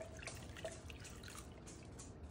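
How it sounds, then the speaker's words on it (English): Water pours and drips steadily into a crockpot while making a steak and gravy recipe, a soft close trickle with small splashes throughout, no voices. "We are going to add 4 cups of water"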